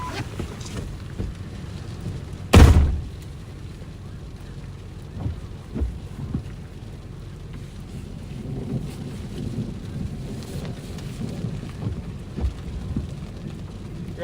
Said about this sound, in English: Got that thunder.